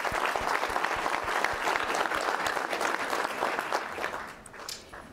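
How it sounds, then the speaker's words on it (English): Crowd applause for city councilors at a State of the City address, steady dense clapping filling the room and tapering slightly toward the end. "y'all please give them another round of applause"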